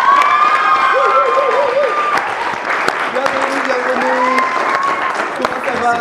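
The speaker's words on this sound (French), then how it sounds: "Alors, il faut applaudir pour lui." A studio audience claps and cheers for a rapper as he arrives. There are loud whoops and shouts over dense applause, with voices close by.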